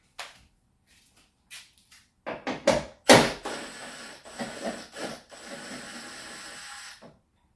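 A Ford Focus ST headlight is worked loose and slid out of its bumper, giving close scraping and rubbing plastic sounds with a few sharp knocks, then a steadier sliding scrape, with no talk.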